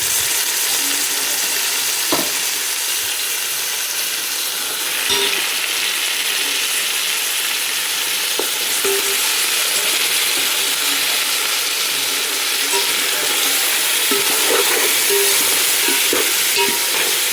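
Turmeric-washed chicken fries in hot oil and tempering for biryani, giving a continuous close hiss of sizzling punctuated by occasional sharp clicks of stirring against the pan.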